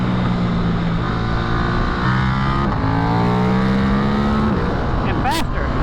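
A 2024 KTM RC8c sport motorcycle engine revs hard and steady, pitch climbing and dropping through gears, loud and close, with a voice briefly over it.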